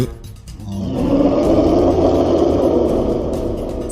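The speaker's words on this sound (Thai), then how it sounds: "เสียงควายร้องด้วยความเจ็บปวด" A long, drawn-out water buffalo bellow, low and strained with pain, rises after a brief quiet moment and holds steadily for several seconds without any talking.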